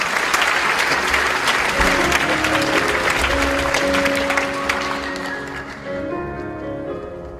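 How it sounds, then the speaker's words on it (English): A large audience at the IFAC 2008 conference closing ceremony claps loudly and continuously, the applause gradually thinning and fading toward the end. "please give Professor Cho a big round of applause"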